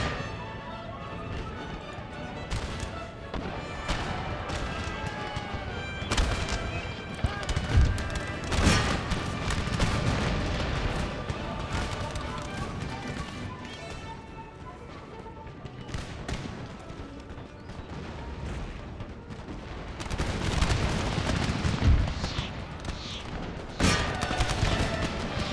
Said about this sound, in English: that canister shot from our 12-pounders has just wrecked that unit